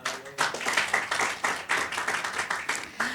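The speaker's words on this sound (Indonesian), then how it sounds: "Tepuk tangan." An audience at a women's church gathering claps hands, loud bursts of applause coming in a steady rhythmic beat of roughly three claps per second, close and clear with no voices over it.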